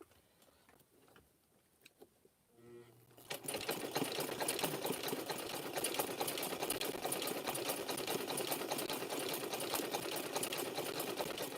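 After a few quiet handling clicks, a rare Singer sewing machine starts up and runs in a fast, steady, rattling stitch close by, sewing rope.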